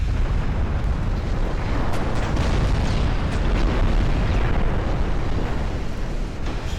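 A warship's gun turret blowing up in a naval battle video game, a loud, dense, rumbling explosion roar that fills the whole stretch without letting up, with no voices over it.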